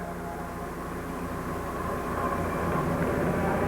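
Red Baron aircraft arriving over an air show, a steady broad engine roar that builds slightly louder, heard from a distance without talk.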